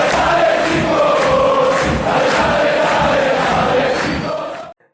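An intro jingle with a crowd cheering plays loud and dense for about five seconds without a break, then cuts off abruptly.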